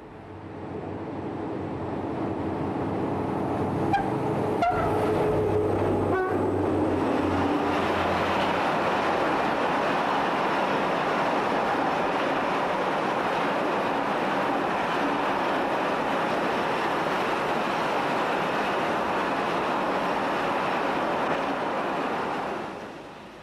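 A heavy 48-cylinder diesel locomotive rumbles steadily nearby with a deep engine roar and rushing noise, an American West freight train passing continuously without voices.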